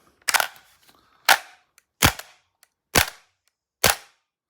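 A Krytac Kriss Vector gas blowback airsoft rifle fires five sharp semi-auto shots, each a loud close crack with a quick snap of the blowback action, spaced roughly a second apart.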